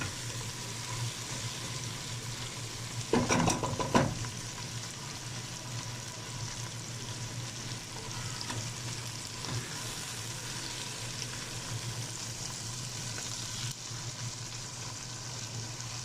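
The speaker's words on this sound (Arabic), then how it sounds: "نقلب بقى كل الكلام ده مع بعضه، ونسيبهم بقى ايه يتشوحوا برده مع بعض شويه" Tomatoes, potatoes and carrots sauté in a pot for lentil soup, a steady soft sizzle running throughout with a brief burst of louder scraping near the start; no one speaks.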